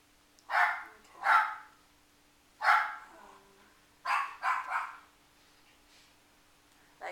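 Dogs bark in a home, six sharp barks in uneven clusters with gaps of silence, fairly close and moderately loud, over a faint steady hum with no talking.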